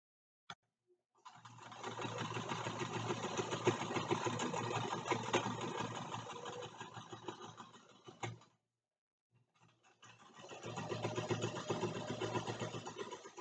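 A sewing machine runs steadily, stitching back and forth over elastic on a small project; a continuous whirring motor of about seven seconds stops briefly, then resumes for another burst, with no talking.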